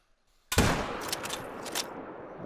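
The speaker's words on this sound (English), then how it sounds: "these guys are all going to hear the gunshot anyways" A single loud rifle shot cracks sharply, followed by a long rolling echo that fades slowly across the landscape.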